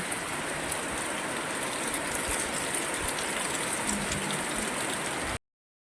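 Steady, dense rain hissing continuously close by, a broad wash of noise with no voices, cutting off abruptly near the end.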